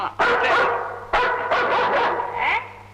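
An Alsatian barks loudly and close by, giving a quick series of sharp barks over about three seconds.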